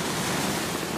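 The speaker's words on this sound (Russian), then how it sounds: "На море волнение." Rough sea waves along the Sochi coast on an overcast, windless March day, a dense continuous wash of surf noise, fairly faint and with no voices.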